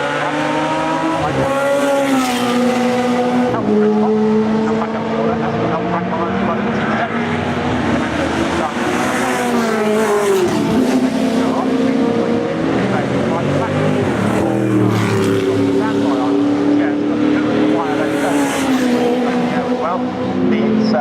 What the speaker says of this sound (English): goes through with the Chevron V8 clearing the lead